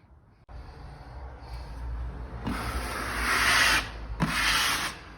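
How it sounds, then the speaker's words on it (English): A drywall knife spreads joint compound over a drywall seam, making a close, continuous scraping rub that grows louder in two longer strokes near the end. "next we're just going to put some mud over it and go and even it out on both sides"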